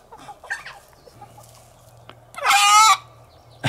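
A rooster crows loudly once, a strained drawn-out call near the end, after scattered soft clucking from chickens nearby, with a low steady engine-like drone underneath.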